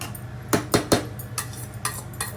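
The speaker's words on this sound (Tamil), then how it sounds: "சாப்பாடு எல்லாமே நம்ம இதில் கொட்டியாச்சு. கொட்டிட்டு ஒரு வாட்டி லைட்டாக கிண்டிட்டு" Half-cooked rice for a Tamil Nadu style chicken dum biryani is tipped into a pot and lightly stirred, giving a few sharp clanks of spoon against metal over a soft, steady background.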